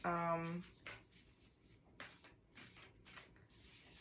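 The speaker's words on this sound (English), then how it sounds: "I'm gonna get 3 more cards out" Oracle cards from a Gateway Oracle deck are drawn and handled, giving soft papery slides, rubs and taps in short bursts, quiet and close, after a brief sung or hummed tone at the start.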